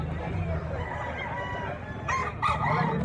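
A nine-month-old white-legged bullstag rooster crows once, loud and close, a rising then held call near the end, over a steady hum of background noise and faint talk.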